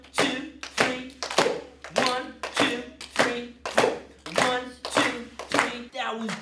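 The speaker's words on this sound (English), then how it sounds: "Can y'all clap some quarter notes with me?" Children's summer program audience clapping quarter notes together, a steady even beat of sharp, fairly loud group claps repeated about ten times without a break.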